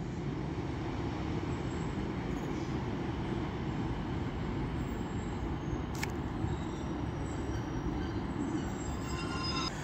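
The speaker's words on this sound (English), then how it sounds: "So now coming in here is a Class 390 for Avanti West Coast, running from, you guessed it, London Euston to Manchester Piccadilly." Avanti West Coast Class 390 train arriving at Stockport station, a continuous loud rumble of wheels on rail with a brief squeal partway through, no voices.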